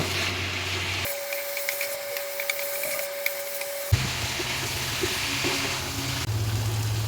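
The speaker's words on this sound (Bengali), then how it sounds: "এখন আমি ভালোভাবে মশলার সঙ্গে লতিগুলো একটু কষিয়ে নেব" Boiled taro stolons frying with spices in a pan, a steady close sizzling hiss that shifts in character partway through, with faint clatters of stirring.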